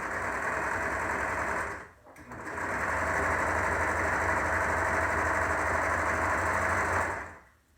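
Sewing machine stitching the front face panel of a modified Olson face mask, a loud steady motor whir running continuously with one brief pause near two seconds before resuming, then stopping at the end.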